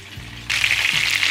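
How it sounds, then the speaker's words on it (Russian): A loud, steady sizzle of chicken legs frying in vegetable oil over medium heat starts abruptly after a low hum and continues close up, with no talking. "Обжариваем окорочка на растительном масле с двух сторон до золотистого цвета на среднем огне."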